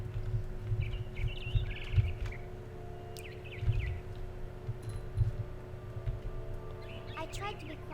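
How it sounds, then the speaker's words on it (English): A barn swallow chirps in the video game What Remains of Edith Finch, with scattered short high chirps over a low ambient hum and soft background rumbles. "Then I heard chirping outside my window. It was a barn swallow going back to her nest."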